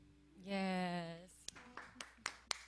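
A few sharp hand claps ring out one by one after a sustained sung note, spaced irregularly and fairly close, in a casual home music session.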